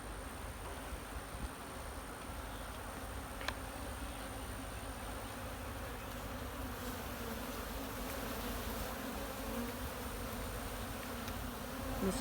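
Honeybees hum steadily at an open hive, a dense continuous buzz from many insects close by, unbroken and fairly even in level throughout.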